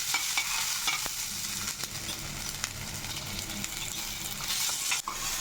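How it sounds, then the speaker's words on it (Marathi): Fresh pigeon peas frying in oil over a low flame, a constant soft sizzle with repeated light scraping and tapping as they are stirred, no voices. "इथे मी जी तूर घेतलेली आहे त्याला पाच मिनटं तेलामधून परतून घेणार आहे"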